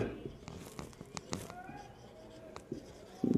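Pen writing on paper while working a physics problem, several quick scratchy strokes and taps close to the microphone, with brief speech between strokes.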